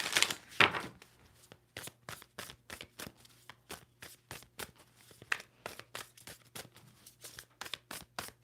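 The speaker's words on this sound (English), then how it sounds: "Two more shuffles." Tarot cards are riffled and shuffled in a steady run of crisp, papery flutters, with a louder burst at the start, close and fairly quiet, no talking.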